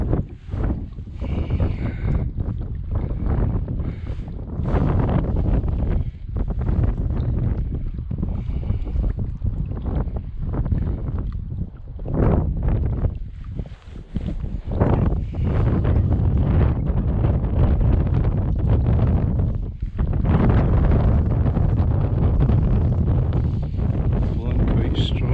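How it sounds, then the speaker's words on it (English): Strong wind with gusts around 25 mph buffets the microphone in gusty, roaring surges that rise and fall throughout, with a voice speaking underneath. "The wind just blows it round to your right."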